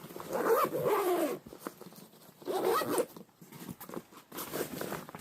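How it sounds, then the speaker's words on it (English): A zipper on a 5.11 range bag is pulled in two long, close rasping runs with a pause between them, followed by softer handling rustles. "but it zips all the way down like that"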